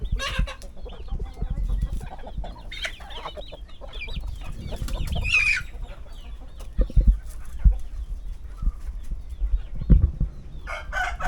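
Chickens cluck and a rooster crows in a backyard coop, with scattered clucks and a couple of crowing calls over intermittent bumps and rustling, fairly close.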